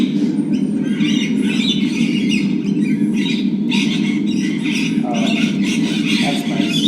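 Loud bird squawks and chirps in the video game Mysterium, Escape the Age, a dense, continuous chorus of harsh calls over a steady low background hum.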